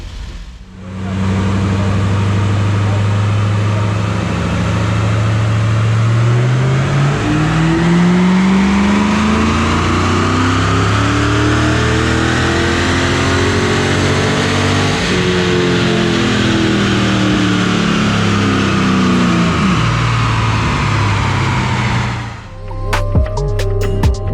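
A 2000 Pontiac Trans Am Firehawk V8 on a dyno winds up in one long, loud pull, the pitch climbing steadily for about twenty seconds before dropping off abruptly.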